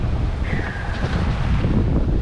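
Wind roars steadily across the microphone aboard a sailboat on rough open sea, with broadband wave wash and a faint high whistle of rigging, loud and continuous.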